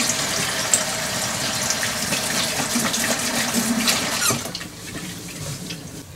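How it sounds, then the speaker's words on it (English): A kitchen tap runs while hands are washed at the sink during bratwurst stew prep: a steady, close hiss of flowing water that eases off toward the end with no talking. "let me wash my hands."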